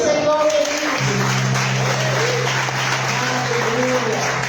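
A church congregation applauds in dense, sustained clapping that fills the room, with voices mixed in underneath.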